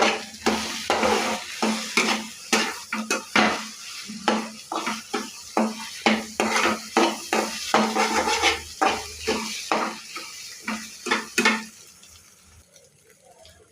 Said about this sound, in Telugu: మళ్ళీ ఒకసారి కలుపుకోవాలి.